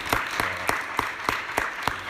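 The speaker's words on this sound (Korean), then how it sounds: "우리 큰 박수로 환영해 주시면 좋겠습니다." A small church congregation gives a welcoming applause for a visiting guest, with a handful of separate, spaced claps heard close and fairly quiet rather than a full ovation.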